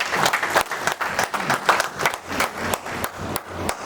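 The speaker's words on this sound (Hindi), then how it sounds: "आप तालियां बजा दीजिए थोड़ा" Audience clapping at a live Hindi spoken-word and song performance, a dense, steady round of applause from many hands lasting several seconds, close and fairly loud with no talking over it.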